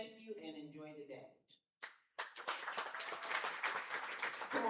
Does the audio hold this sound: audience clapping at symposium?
yes